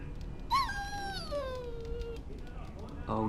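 A dog in the video game Dragon Age Origins gives a single high, sliding whimper that falls away over about two seconds, clear and close, with game ambience around it and no talk.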